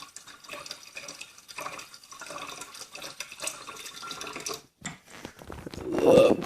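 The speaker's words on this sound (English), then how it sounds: "I have a tap above my stove, and that gives me my filtered water that I brew with anyway" Filtered water running from a tap above a stove into a measuring cup, a steady trickling stream that rises into a louder, fuller splash toward the end, with no voices.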